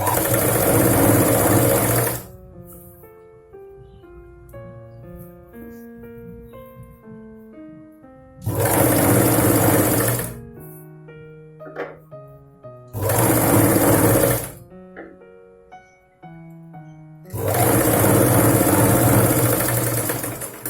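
Sewing machine running in three or four loud bursts of a few seconds each, stitching the lining cloth of a Punjabi dress, with quiet pauses between bursts where faint music plays.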